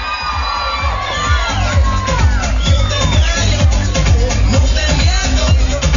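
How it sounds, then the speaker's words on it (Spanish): Crowd at an outdoor beach-season pageant in Vinces cheering and shouting for the newly crowned queen, a loud, steady wash of whoops and voices with a thumping beat underneath. "Un fuerte aplauso para la reina de la temporada playera 2014"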